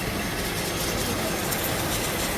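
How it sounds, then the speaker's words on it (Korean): A Lincoln MKX engine runs after repair of a burst flexible exhaust pipe, giving a loud, steady rumbling roar that holds without a break for the whole stretch. "조립하고 시동 걸고 그리고 한번 확인합니다"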